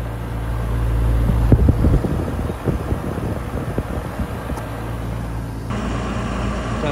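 An air conditioner condenser fan spins fast, giving a steady close whirring hum with low mechanical drone and airflow rush, continuous throughout with no talking.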